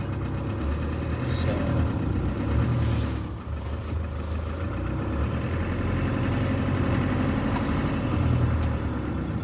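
A willow green Land Rover Defender 300 TDI D130 idles close by with a steady low diesel rumble, and a voice speaks briefly over it.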